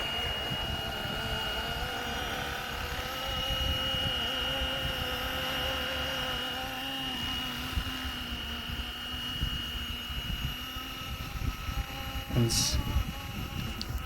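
A Bell 206 helicopter in the Flywing flight simulator game drones steadily with a constant rotor and turbine whine, filling the scene at near-even loudness, with a brief sharper burst near the end.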